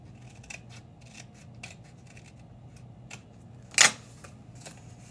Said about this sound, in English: Need my little baby scissors.